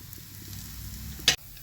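Banana dosa made from mashed plantain, beaten rice, coconut, jaggery and rice flour frying on a hot pan, a soft steady sizzle with a brief louder scrape or hiss as it is flipped near the end.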